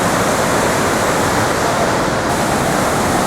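A large horsetail waterfall in Redes Natural Park, Asturias, thunders nearby, its broad constant roar of falling water filling the space without a break.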